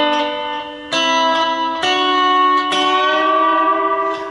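Lap steel guitar holds sustained chords on the 2nd and 3rd strings while the slide rocks back and forth in a windshield-wiper motion. Four bell-like struck chords ring out, close and fairly loud, with no talking.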